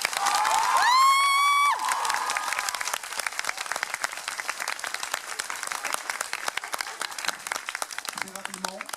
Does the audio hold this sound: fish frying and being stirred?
no